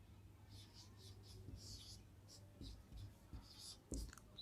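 Pen writing on paper in a classroom-style math lesson, soft scratchy strokes in short bursts, close but faint over a low steady hum.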